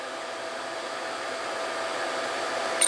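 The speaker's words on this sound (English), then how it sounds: "I've never ground tungsten before" Tungsten electrode being ground on a TIG tungsten sharpener, a steady whirring motor hiss that holds even and unbroken, with a brief sharp sound at the very end.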